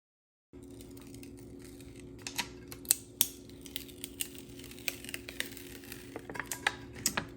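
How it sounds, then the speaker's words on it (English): Scissors trim heat transfer vinyl on a glitter tumbler with a series of close, crisp snips and crinkles over a faint steady hum, growing more frequent toward the end. "Let me just trim this first."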